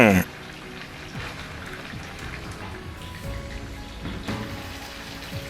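Chicken kabab pieces sizzling on a hot tawa, a steady crackling spatter like rain after a brief loud opening burst, with faint talking underneath.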